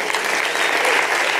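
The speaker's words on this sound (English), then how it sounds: "would you guys give a round of applause for the planning team?" Steady applause from a church congregation for the planning team, a dense crowd of clapping hands sustained evenly throughout.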